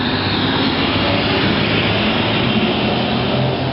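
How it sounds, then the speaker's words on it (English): Big garbage trucks driving past outdoors, a loud continuous engine roar and rumble that fills the whole stretch without letup and drowns out everything else. "sorry it's so loud, big garbage trucks going by"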